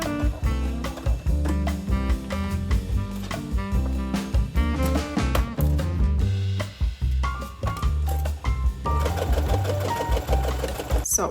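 A sewing machine runs steadily while stitching a V-shaped seam in fabric, using a fine silk needle and a long stitch length. The mechanical whir is close and continuous, with brief pauses and a faster burst near the end.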